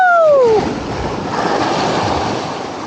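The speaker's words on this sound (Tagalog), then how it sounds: "Okay, malaking alon. Prepare for impact." A large ocean wave crashes at a fishing spot, a loud rushing roar of surf and spray that swells and then slowly fades, with wind buffeting the microphone and a brief whistle-like tone at the start.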